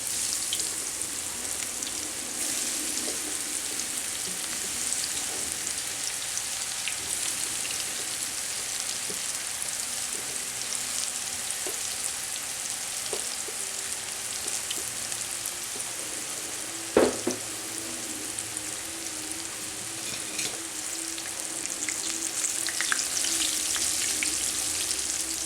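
Breaded okra fries in hot oil in a cast-iron pan, a dense, continuous crackling sizzle like steady rain, close and even throughout, with one brief sharp knock midway and no voices.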